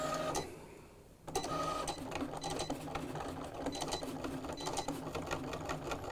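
A Cricut machine cuts sticker material with a continuous motorized whir and rapid mechanical clicks, faint and close, after a brief pause at the start.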